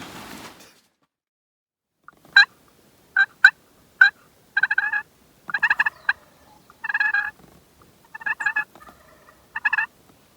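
A wild turkey gobbles repeatedly during a spring hunt, with loud bursts and short rattling calls spaced across a quiet outdoor backdrop after a brief rustle at the start.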